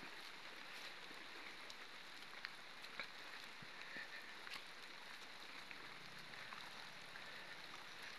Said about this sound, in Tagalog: Sana tumigil na itong ulan.